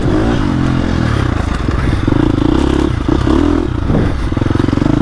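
A 2025 KTM 350 XCF dirt bike engine on a ride, loud and close, its four-stroke note rising and falling through throttle changes with rhythmic pulsing and clattering chassis noise.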